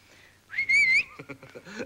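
A person whistles a short rising and wavering tune, loud and close, followed by brief talk.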